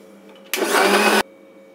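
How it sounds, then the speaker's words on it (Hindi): A grinder whirs loudly for under a second while blending chickpea muffin batter with peanut butter, starting and stopping abruptly against a quiet room. "इसे देते हैं हम एक और ग्राइंड और अच्छी तरह से इसे मिक्स कर लेते हैं."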